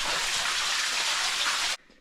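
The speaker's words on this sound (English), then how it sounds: "There's a little waterfall back in here." A small waterfall inside a cave at Pinnacles National Park gushes in a loud, steady rush close by, then stops abruptly, leaving faint ambience.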